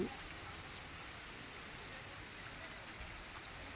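Steady, even rain hiss throughout, fairly quiet and unbroken, with no voices or other distinct sounds standing out.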